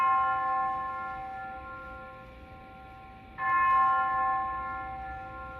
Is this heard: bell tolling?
yes